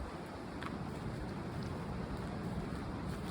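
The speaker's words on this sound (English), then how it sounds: "let the sound of the wind come through" Wind blows across the open trail at Dameron Marsh nature preserve as a constant, full rushing roar that buffets close to the microphone, with no voices.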